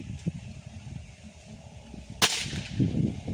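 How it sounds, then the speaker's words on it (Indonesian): A single sharp, snapping air gun pellet shot cracks out midway through a quiet outdoor background hiss. "Ini tembakan ketiga lur."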